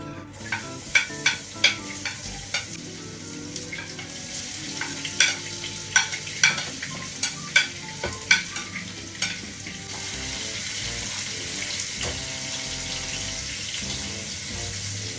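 Garlic and onion sautéing in a pan with leftover longganisa drippings, a steady sizzle with a run of sharp spatula scrapes and knocks early on, then a smoother continuous fry, no talking.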